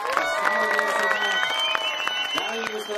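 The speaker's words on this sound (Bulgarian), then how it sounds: "Вашите аплодисменти за Николай Златков" A crowd at a rally event at Shipka applauds and cheers for driver Nikolay Zlatkov, with steady clapping beneath a loud announcer's voice and a sustained melodic tone running through.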